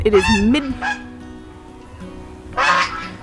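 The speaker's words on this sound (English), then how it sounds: "this goose is driving me crazy" A goose honks loudly and close by in a garden in mid-September, giving a couple of quick honks at the start and another burst near the end.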